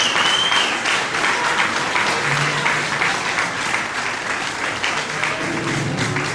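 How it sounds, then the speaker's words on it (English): Dense, sustained applause from a crowd at an election rally at the Portuguese Club, steady and close throughout with no break. "One more round of applause for our candidates."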